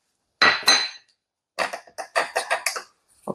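Dried pollock (hwangtae) is cut into bite-size pieces with a knife on a cutting board, giving one pair of sharp taps and then a quick run of crisp chopping knocks, close and dry with no talking.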